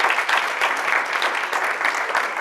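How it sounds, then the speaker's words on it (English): Crowd applause at an anniversary celebration gala, dense and loud close-up clapping that swells in slight waves, with no speech over it. "Let's give them a round of applause for stepping forward."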